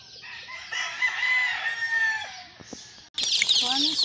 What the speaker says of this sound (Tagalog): iba't ibang uri ng manok